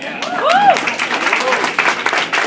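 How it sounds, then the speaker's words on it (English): A dinner crowd at a scholarship event breaks into applause, a loud spread of clapping at close range with people talking and calling out over it. "Big round of applause to the center."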